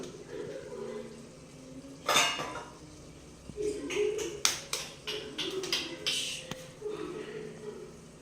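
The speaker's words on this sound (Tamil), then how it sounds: "இந்த முட்டையை உடைச்சு ஊற்ற போகிறோம்." Eggs are cracked and poured into a pan while making egg biryani, with sharp clinks and taps of shell against metal amid kitchen clatter and faint running water.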